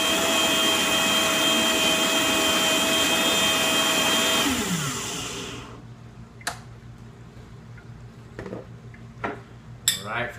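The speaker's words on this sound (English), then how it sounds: "It happens to be a Vitamix blender." A loud Vitamix blender making a smoothie roars at high speed for several seconds, then winds down and stops, followed by a few scattered clinks and knocks.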